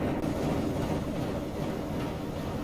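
A train on the Columbia Valley Pacific Railway in Train Simulator 2020 rumbles along with a steady low rolling drone, continuous and fairly loud, heard alone without speech.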